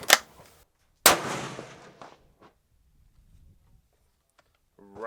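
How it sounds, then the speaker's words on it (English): Two sharp, loud rifle shots from a Ruger American chambered in 7mm PRC at an outdoor range, about a second apart, each with a rolling echo that fades into near silence. "I'm going to put two more bullets right there to see how it goes."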